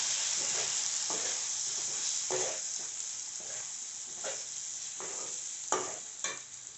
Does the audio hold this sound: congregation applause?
no